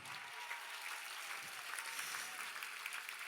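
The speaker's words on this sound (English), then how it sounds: "Give yourselves a huge round of applause." A crowd at a benefit fundraising appeal claps steadily in sustained applause, faint and distant, with no voices standing out.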